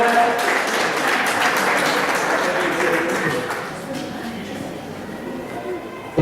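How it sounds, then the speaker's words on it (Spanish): Church congregation applauding their pastor, dense clapping that fills the room for a few seconds and then thins and fades, with speech mixed in. "Un aplauso a nuestro pastor por estar."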